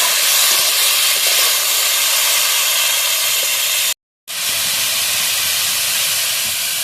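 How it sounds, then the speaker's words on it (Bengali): Potatoes and green chilli frying in oil for a samosa filling, giving a loud, even hiss that runs unbroken apart from a brief silent cut near the middle. "আলুটা ভালোভাবে ভেজে নেব"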